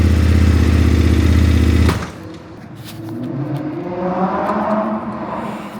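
A KTM 1290 Super Adventure S motorcycle engine runs loud and close with a deep steady rumble for about two seconds, then cuts out abruptly, leaving quieter mechanical clatter and background traffic.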